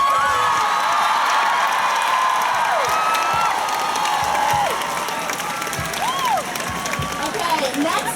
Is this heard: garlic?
no